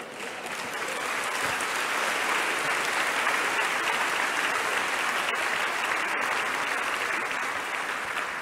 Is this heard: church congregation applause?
yes